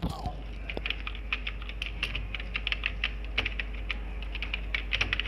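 Typing on a computer keyboard while a name is entered into an online PAN card form, with quick irregular key clicks close by that bunch into bursts, over a faint steady hum.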